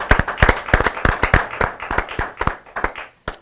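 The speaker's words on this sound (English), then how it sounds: "let's give a big round of applause for Tommy Ma, Tom Mealy, Janine, and Vicky." A small studio audience on a live variety show claps for the crew. The clapping is loose and uneven, from a handful of nearby hands, strong at first and tapering to a few scattered claps.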